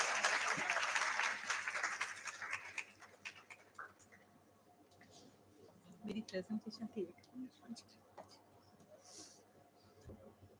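Audience applause at an academic conference on industry and growth, loud broadband clapping filling the opening seconds then fading, followed by scattered voices and murmuring in a large hall.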